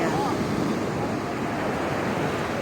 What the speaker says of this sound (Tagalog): Nagbabalod dagat.